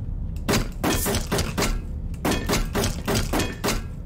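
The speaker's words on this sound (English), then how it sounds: "In case of emergency, break glass." A hammer strikes tram window glass over and over in quick bursts of sharp cracking and smashing impacts. They come in two rapid groups of about five blows each, loud and close.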